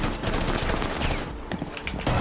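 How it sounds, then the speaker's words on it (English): Gunfire in the Rainbow Six Siege video game, a dense, loud burst of shots and impacts that runs through the whole stretch with no quiet gap. "It's gotta be one shot with the shotgun."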